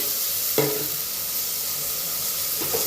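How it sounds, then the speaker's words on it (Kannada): Potatoes with rice and Mysore dal frying in oil in a pot, a continuous loud close sizzle and hiss with a couple of brief stirring scrapes. "ಅದು ಆಲೂಗಡ್ಡೆನೂ ಎಣ್ಣೆ ಚೆನ್ನಾಗಿ ಫ್ರೈ ಆಗಬೇಕು"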